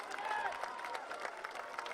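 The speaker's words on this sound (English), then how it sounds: "Applause here from the crowd" Stadium crowd at a women's soccer match between Washington Spirit and Seattle Reign FC, with a murmur of applause and scattered cheering, distant and fairly soft, while a commentator's voice runs over it.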